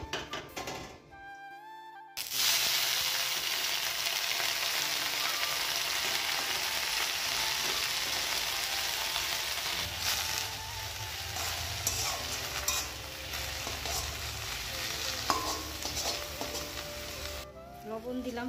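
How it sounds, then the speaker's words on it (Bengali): Two dried red chillies fry in hot oil in a home kitchen, a steady loud sizzle and crackle running for many seconds after a brief quiet start, with some background clatter. "পাট শাকের জন্য 2টো লঙ্কা ভেজে নিচ্ছি, শুকনো লঙ্কা"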